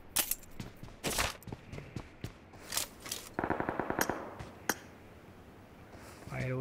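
Bursts of M72 automatic gunfire in a battle royale video game tournament, rapid volleys and single shots cracking in loud clusters with brief gaps, alone without talk.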